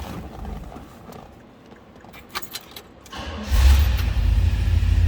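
Keys jangle and click near the ignition of a 1968 Oldsmobile 442 convertible, then the V8 cranks and fires up into a loud, deep, steady rumble close by.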